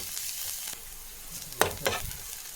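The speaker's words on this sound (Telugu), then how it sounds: "వేసి పచ్చి స్మెల్ పోయే వరకు ఫ్రై చేసుకుంటాము." Ginger garlic paste frying with onion and green chili in a pan for dal curry, a steady close sizzle with two brief stirring scrapes near the end.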